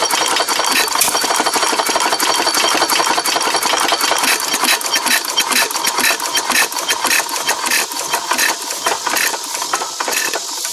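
A 1918 Fairbanks Morse Z 1.5 horsepower hit-and-miss engine chugs steadily with rapid mechanical clatter for the whole stretch, loud and close, with no talking.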